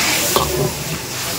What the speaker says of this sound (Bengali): এবার হচ্ছে চিলি চিকেনটা রান্না হচ্ছে